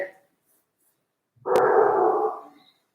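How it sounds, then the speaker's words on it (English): Indoors, a dog gives one sustained bark or howl-like call at mid-distance, lasting about a second, with quiet before it. "There's a dog barking in my house."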